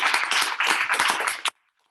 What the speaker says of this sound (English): So I want you to just have a round of applause